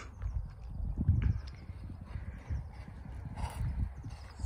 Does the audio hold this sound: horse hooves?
yes